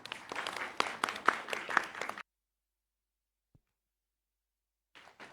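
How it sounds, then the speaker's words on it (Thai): A modest audience at a public hearing claps to welcome the speakers, a short burst of scattered applause with individual claps audible, then silence before a brief faint return. "ขอเสียงปรบมือต้อนรับวิทยากรทุกท่านด้วยครับ"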